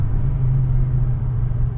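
A 2009 Ford Focus RS being driven, its engine a steady low rumble heard from inside the cabin, continuous and even with no voices.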